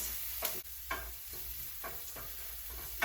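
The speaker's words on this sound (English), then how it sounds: "And I'm gonna let this saute for another 2 minutes." Vegan dirty rice sauteing with thyme and cayenne in a pan, a steady close sizzle with several scraping stirs of a utensil, no talk.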